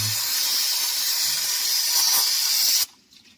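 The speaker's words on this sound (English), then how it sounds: "we have some brake clean, which is just like a parts cleaner, degreaser" Brake cleaner degreaser is sprayed from an aerosol can during an oil and filter change on a 400 bhp Saab 9-3. A loud, close, steady hiss lasts almost three seconds and then cuts off abruptly.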